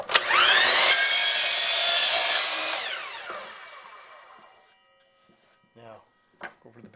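Loud power-tool whine cutting through 1.5-inch plastic pipe for a few seconds, winding down and fading out, followed by quiet with a few faint clicks and a brief voice.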